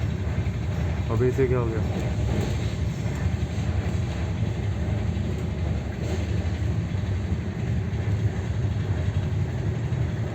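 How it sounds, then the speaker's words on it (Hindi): A train rumbles past, heard from aboard the Rajdhani Express AC 2-tier coach running New Delhi to KSR Bengaluru; a steady, loud rolling roar fills the whole stretch while people talk over it. "गलत टाइम पे ट्रेन आ गई यार।"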